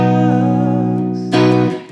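Guitar chords strummed for the hook of a song, ringing sustained notes close up and alone, with a sharper fresh strum near the end before the sound fades.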